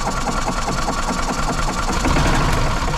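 A gas-powered 2000 Yamaha G16 golf cart engine that had sat unused for years runs steadily at about half throttle, a close, loud, continuous rumbling drone with a slight rise in the final second.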